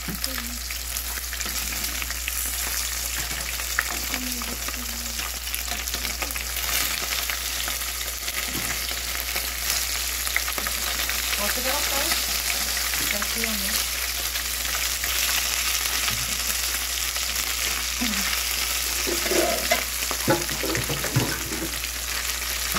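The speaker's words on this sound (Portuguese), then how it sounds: "Patrícia aqui colocando meu bolinho pra fritar" A bolinho, a fried dumpling, sizzles steadily in hot oil, a loud continuous crackle with bubbling and a few faint voices in the background.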